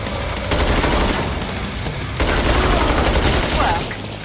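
Dense, rapid gunfire from the video game Killing Floor 2 rattles continuously and loudly, swelling slightly in intensity midway through.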